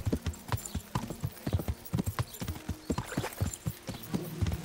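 Horse hooves clip-clopping at a steady walking rhythm in the medieval video game Kingdom Come: Deliverance, fairly close and clear with faint background ambience.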